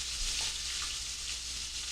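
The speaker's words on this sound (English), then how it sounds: "While this first group is finishing its frying" Food frying in a pan gives a steady, dense sizzle that holds at an even level throughout, with faint crackles but no voices over it.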